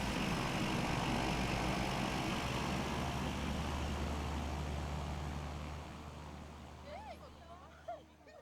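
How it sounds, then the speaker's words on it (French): A Cessna Caravan's turbine engine drones as a steady, moderately distant roar that fades away over several seconds, leaving a quieter scene with a few brief sounds at the end. "Ce que tu aimes le plus de cet avion, c'est son bruit de moteur à turbine"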